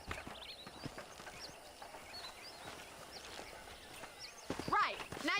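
Horse hooves clip-clop in the video game Red Dead Redemption, a quiet irregular patter of steps under faint ambient sound, with a few bird-like chirps and a brief tonal cue at the end.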